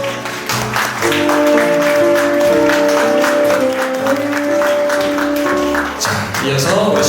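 Wedding guests in a hall applaud warmly during a candle-lighting ceremony, a sustained round of clapping mixed with background music and a voice speaking over it.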